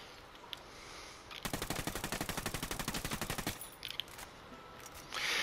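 A steady, rapid burst of automatic weapon fire in Ghost Recon Wildlands, loud and evenly rhythmic for about two seconds, followed by a few scattered single shots and ambient game noise.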